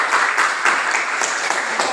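A class of students applauds for a group's answer during a science lesson, a steady burst of clapping that lasts about two seconds with no voices over it.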